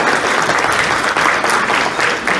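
Loud, dense applause at a fraternity's annual black tie ball, a crowd clapping vigorously and continuously for a speaker, close and full, with no talk over it.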